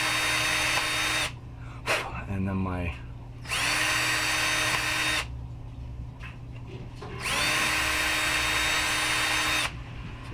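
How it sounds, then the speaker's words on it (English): A power drill boring pilot holes in wood for a bridge replacement, three sustained whirring runs separated by pauses, with someone talking briefly between bursts. "You can see them there getting drilled."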